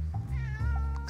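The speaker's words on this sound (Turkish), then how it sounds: "Bu kedilerden kim korkmaz?" A cat meows in a drawn-out, harmonic cry lasting about a second, close and loud, with a constant low hum running underneath and no talking.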